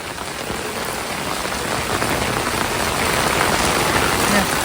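Heavy rain pours down in a dense, steady hiss, loud and close, drumming on surfaces without a break.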